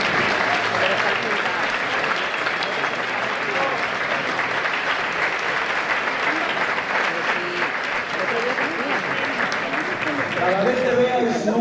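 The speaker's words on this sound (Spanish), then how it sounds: "para que pida un aplauso" Audience applause at an Asturian Christmas music concert, a full, steady roar of clapping from a large crowd lasting throughout, with some voices mixed in.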